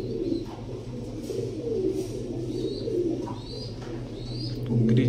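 Fancy pigeons coo continuously in a breeding loft, layered soft throaty calls overlapping against a steady low background hum, with a few higher chirps scattered throughout.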